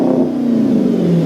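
A car engine with a Magnaflow aftermarket exhaust revs with a deep, steady, loud drone that holds briefly and then sags slightly in pitch.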